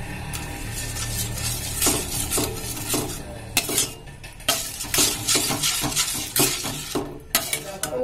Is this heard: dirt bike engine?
no